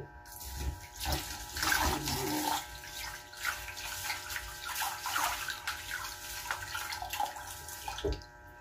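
Rice being washed in water before cooking, with continuous sloshing, swirling and splashing from hands stirring the grains in a basin, close and fairly loud, with short pauses and bursts.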